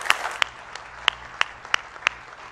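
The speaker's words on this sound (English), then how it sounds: "Let's give our panel a big round of applause." An audience claps for a business owner panel at an event, light scattered clapping with a few sharp, distinct hand claps standing out near the microphone, fairly thin and brief.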